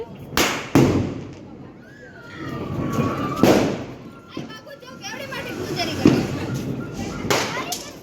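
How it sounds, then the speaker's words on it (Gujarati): Diwali firecrackers burst at intervals, with several sharp loud bangs spread across the stretch, while people and children talk and call out between the blasts. "તું ફટાકડા ફાડ ને"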